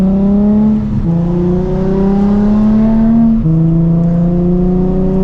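A Nissan 350Z with a loud aftermarket exhaust revs up through two gears, its rising engine note dropping at each shift before climbing again, close and dominant without talk.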